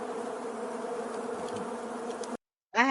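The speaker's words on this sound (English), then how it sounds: "I had to play them killer bees for that" A dense swarm of killer bees drones in a steady, close buzz, played as a sound effect, cutting out abruptly before another sound briefly starts.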